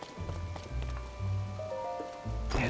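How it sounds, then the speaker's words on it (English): Steady rain falling in the open world of the video game Zelda: Tears of the Kingdom, a soft continuous patter with low game music and ambient tones underneath, fairly quiet throughout. "it's been raining all fucking day."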